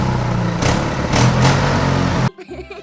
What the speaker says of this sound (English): A fireman then arrived with the red fire engine for the class to look at.